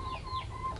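Free-range chickens on an Indonesian farm give soft, continuous clucking at close range, a low steady murmur of contented hens with no voices over it.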